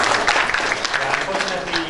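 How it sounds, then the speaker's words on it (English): Audience applause at a national research conference in Bangladesh, a dense wash of clapping from a crowd that holds steady through the brief moment, with voices mixed in. "One more time, a big round of applause for Mr."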